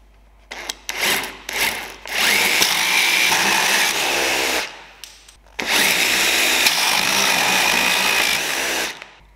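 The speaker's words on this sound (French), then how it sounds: "pour tester ça, je me mets en mode perçage" A power drill fitted with a RISS ProFit hole saw pilot bit drills in a test at speed 3, giving close, loud whirring bursts: a few short stuttering starts, then two long sustained runs with a brief pause between.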